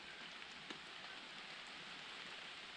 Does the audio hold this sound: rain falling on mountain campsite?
yes